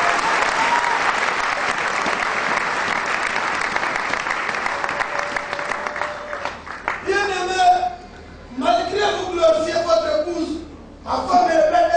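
An audience bursts into loud, dense applause that rolls on steadily for several seconds, then a singing or speaking voice rises over the fading claps.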